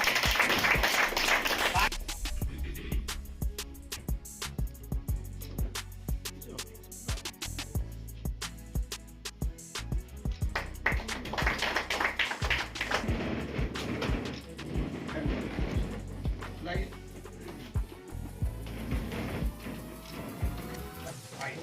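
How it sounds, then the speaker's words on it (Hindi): Loud, sustained applause from an audience at a gathering of LIC SC/ST Buddhist employees planning for Constitution Day, greeting a working president. Dense clapping runs continuously for over twenty seconds, swelling at times, with occasional voices mixed in. "जोरदार तालियां केवल कृष्ण जी के लिए।"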